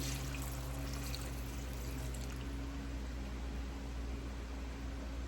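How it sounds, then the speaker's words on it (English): Quiet, steady pouring of water over turkey wings and pinto beans in a pot, making a continuous soft rushing wash with no talking. "So we want to cover this up with water."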